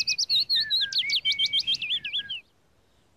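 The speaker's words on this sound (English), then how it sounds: "Speckled warblers love to sing along." Speckled warbler singing in a cartoon: a quick run of bright, high chirps and warbling notes, loud and alone, ending abruptly in near silence.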